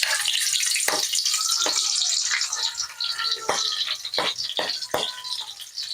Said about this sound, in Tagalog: Umpisahan na po natin ang paggisa.